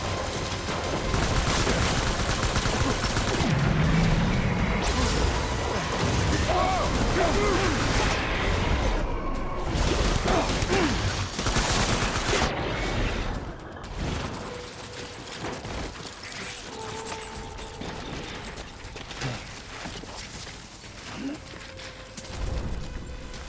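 Assault rifle fire in the video game Death Stranding, with dense, continuous volleys of shots and mechanical clatter that fade to a quieter, scattered stretch in the second half.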